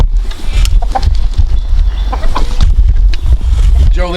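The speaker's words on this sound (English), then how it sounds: "Go let these crazy chickens out here." A busy flock of farm chickens cluck and squawk, close by and loud, with a rooster-like call near the end.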